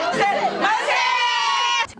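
Women's group representatives cheering and shouting together in a crowded room at a legislative assembly as a civil law revision passes, a loud close burst of overlapping joyful voices lasting about two seconds.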